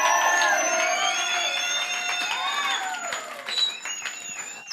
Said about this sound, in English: give my team a big round of applause here.